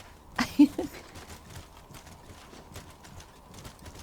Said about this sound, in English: He's a robotic horse.